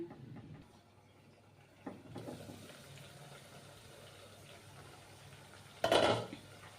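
A lid is set onto a pot of potatoes cooking with a little water, giving one sharp metallic clink near the end after a softer knock and low kitchen background noise.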